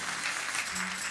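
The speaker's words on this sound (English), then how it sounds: "Give our visitors a round of applause," Church congregation applauding visitors during a service, a steady wash of clapping held at an even level through the whole short moment.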